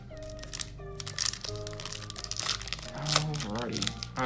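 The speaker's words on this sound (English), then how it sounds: "We have more card packs to open up." Foil trading card packs from a Topps Alliance of American Football box set being torn open, with close crinkling, crackling and tearing of wrappers under a constant low hum.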